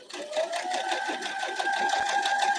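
A sewing machine runs steadily, stitching a quilt's formal garden block, a continuous close whirring drone with rapid needle chatter and no pauses.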